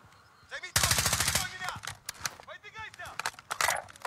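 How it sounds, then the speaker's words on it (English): Video game gunfire from bot enemies, with bursts of rapid shots and scattered single cracks mixed with players talking over them. "They're bots shooting at you."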